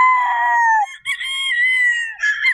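Muff game fowl roosters on a Batangas game farm crow loudly and close, one long strained cock-a-doodle-doo followed by overlapping crows from other birds, with no talk.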